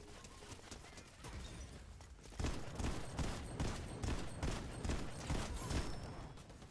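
Turret gunfire in a video game: quiet at first, then from about a third of the way in, loud rapid bursts of shots repeat in an uneven stream.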